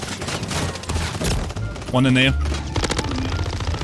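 Rapid bursts of automatic gunfire from a shooter video game rattle in quick succession, loud and close, mixed with a voice talking over the shots.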